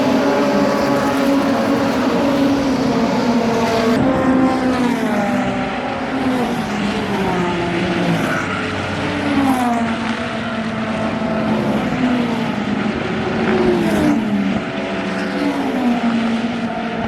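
DTM touring race cars at the Lausitzring racetrack in eastern Germany, engines rising and falling in pitch as cars pass one after another, a continuous loud whine with repeated upshifts and no talk.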